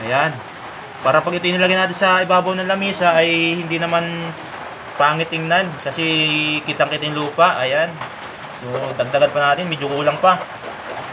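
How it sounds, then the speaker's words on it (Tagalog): Heavy rain drums on a roof in a steady, broad hiss beneath someone speaking almost throughout the clip. "Sigurado rinig nyo yung ingay ng bubong kasi yan ang lakas nga po ng ulan dito."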